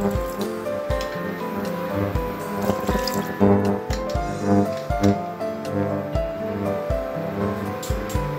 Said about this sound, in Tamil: இதல கொஞ்சமா தண்ணி விட்டுக்கலாம்.